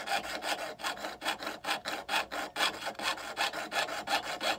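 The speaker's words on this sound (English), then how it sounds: "by using our Dremel tool" A Dremel rotary tool carving a wooden spoon, roughing out small lips in the wood, producing close, rhythmic rasping bursts about twice a second, steady and without talk.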